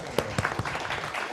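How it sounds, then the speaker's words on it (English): Audience clapping at an arts funding panel event, a short burst of applause with a few sharp claps standing out, fairly close and steady across the moment. "I think we can clap."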